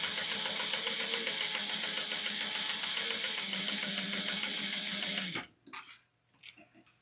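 Domestic sewing machine top-stitching an eighth-inch line along the trim of a cork clutch, a steady close whir of rapid needle strokes for about five seconds before it stops, followed by faint handling clicks.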